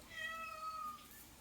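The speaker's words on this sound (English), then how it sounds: "there's a cat." A cat gives a single short meow, faint and a little distant, over quiet room tone.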